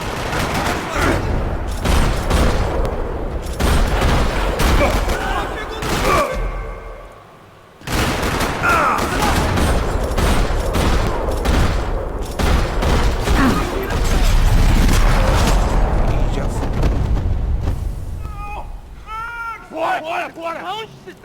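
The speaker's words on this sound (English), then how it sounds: "Another parking lot rattling with gunfire." Gunfire rattles through a parking lot in the Max Payne 3 video game, bursts of rapid shots and single cracks over about twenty seconds, mixed with spoken dialogue and game effects.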